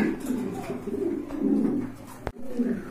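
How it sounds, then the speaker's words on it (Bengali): Large pigeons at a market stall coo in low, throaty rolling bursts, close and fairly loud, with a brief sharp click near the end. "তো এই যে দেখেন অনেক বড় সাইজের কবুতর"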